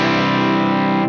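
Low-tuned electric guitar in C standard played straight through an amp with no fuzz pedal, one sustained thick chord ringing loudly for about a second before stopping; no talking.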